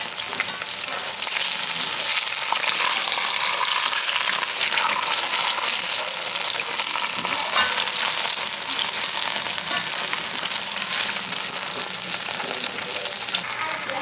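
Beef sears in a hot pan with salt, giving a loud, continuous crackling sizzle with scattered pops that holds steady throughout, close up.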